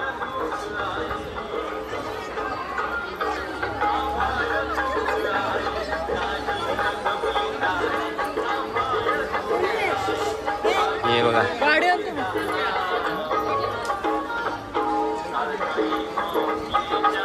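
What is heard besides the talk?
crowd chatter at a packed temple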